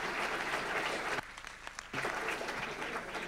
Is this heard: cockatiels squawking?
no